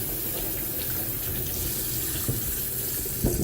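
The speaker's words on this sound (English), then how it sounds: "Lather it up nice, all soapy sudsy, under nice, hot, warm water." Warm tap water runs steadily into a sink as hands are lathered with soap and scrubbed beneath the stream, a continuous close splashing hiss with a few brief knocks near the end.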